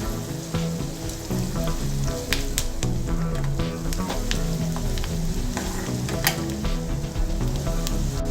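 Onion pieces with turmeric frying in a pan for a cabbage and chana dal stir-fry, a loud, continuous close sizzle with scattered crackles and pops and stirring scrapes, and no talking.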